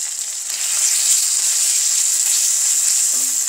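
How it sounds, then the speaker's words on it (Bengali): Masala spices frying in oil for a vegetable and dal breakfast dish, a steady close hiss of sizzling that carries on without pause and briefly swells near the end, with no voices. "এখন মশলাটা ভুনা হয়ে গেলে একটু বাড়িয়ে দিই"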